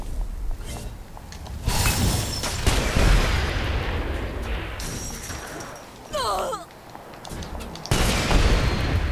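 Weapon fire from a high-ammo gun in the video game Saints Row 4, dense bursts of loud shots and crashing impacts across the whole stretch, with a player's voice talking over parts of it.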